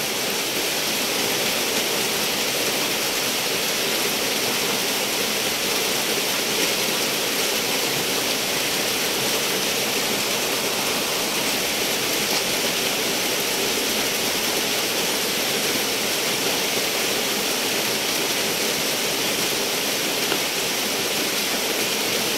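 Steady, dense rain falling continuously and fairly loud, a broad even hiss like a downpour with no voices over it.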